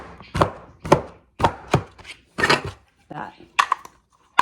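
Strawberries sliced with a multi-blade slicer tool, a series of sharp crunchy chops about every half second, close and clear, with brief speech in between.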